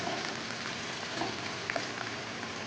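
Carrot, beans, baby corn and mushroom pieces deep frying in hot oil, giving a steady, dense hiss and bubble with a few faint pops throughout, no talking.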